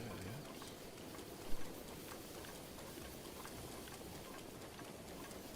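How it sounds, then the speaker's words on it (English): Steady rain falls in the video game Zelda: Breath of the Wild, a continuous broadband hiss at low level with one brief soft bump partway through and no talking. "I feel like we basically just have to wait for it to stop raining"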